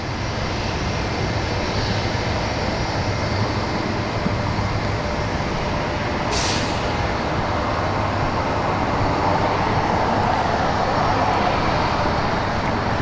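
A Copa Airlines airliner arriving from Panama City at Washington Dulles gives a loud, steady jet roar that holds at close range throughout.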